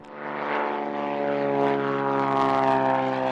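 A small propeller plane drones overhead on a windy April day over the Twin Cities, its steady engine hum growing slightly louder as it passes, with no voices.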